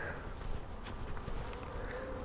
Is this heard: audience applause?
no